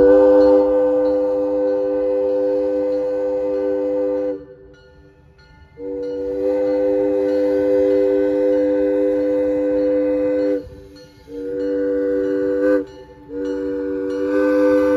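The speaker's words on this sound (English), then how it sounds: "So finally you get to hear the whistle" The Hobo Railroad train whistle blows loud and close on a Christmas special chase, a multi-tone chord held in long blasts with short gaps, ending in two shorter toots.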